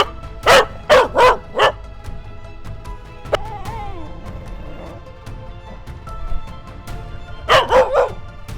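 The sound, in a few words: dog barking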